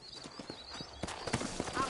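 Horse hooves clip-clopping on ground in the Red Dead Redemption video game, a quiet, steady rhythm of distinct hoof strikes from a few horses nearby.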